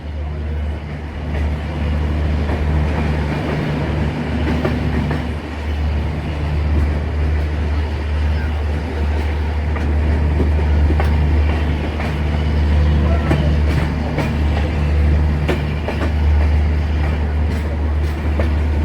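The Tebhaga Express, running with LHB coaches, rolls into New Farakka Junction with a continuous low rumble and faint wheel clatter, loud and steady throughout, with no talk over it.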